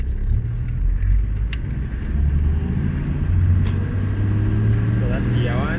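A manual car is driven in first gear while joining a road, with low engine rumble and road noise throughout and a person talking over it.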